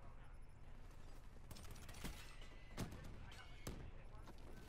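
Gunfire in Black Ops 3 on the Nuketown map during a multiplayer match: a few sharp, separated shots crack out over a low game-noise bed, with a voice briefly audible.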